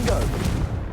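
A Confringo blast spell explodes in Hogwarts Legacy, a loud, booming burst with a crackling fiery tail that rolls off and decays within a second, heard inside an underground tomb.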